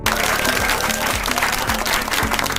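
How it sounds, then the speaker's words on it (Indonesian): Audience applause at a university law students' event, a dense steady wash of clapping with a low tonal hum running beneath it throughout. "Mari kita beri tepuk tangan."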